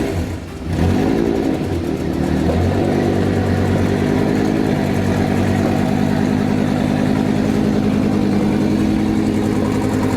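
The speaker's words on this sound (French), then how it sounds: "Il semble toujours y avoir un petit raté sur le côté gauche du moteur." A Lamborghini V10 that has been crashed and rebuilt idles close and steady after a quick rev at the start, with a slight misfire on the left side of the engine.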